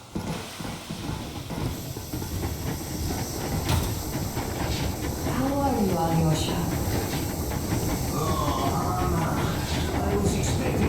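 The Yermak steam train in Metro Exodus running, a loud steady rumble with rhythmic clattering and hissing steam that grows slightly fuller over time, while people talk nearby.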